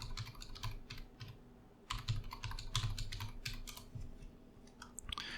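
Rapid bursts of clicky keystrokes on a computer keyboard as a password is entered, close and steady with brief pauses between runs, no voices.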